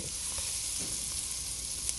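Frankfurter sausage sizzling in a pan, a steady close bright crackle with faint occasional pops and no voices.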